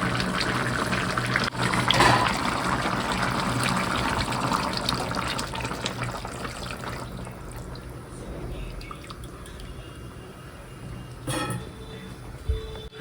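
Rice water poured into a pot of cooking jackfruit curry makes a continuous splashing, gushing sound that gradually softens, with a few drips and clinks near the end.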